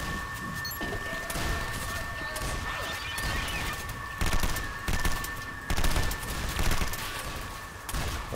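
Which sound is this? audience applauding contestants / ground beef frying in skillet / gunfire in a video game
gunfire in a video game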